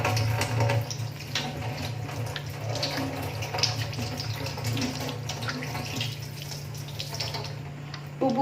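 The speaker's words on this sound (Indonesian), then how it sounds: "kita akan membasahi tangan dengan air mengalir" A tap runs steadily as hands are wetted under flowing water before handwashing, a close, continuous splashing stream over a low steady hum, with no voices.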